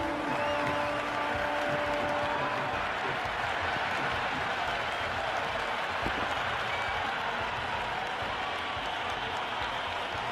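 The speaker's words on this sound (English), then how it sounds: "The crowd is electric right now." A stadium crowd in the Cricket 26 video game, India versus South Africa T20, roars in a steady, dense wall of cheering and applause throughout, with no voices standing out.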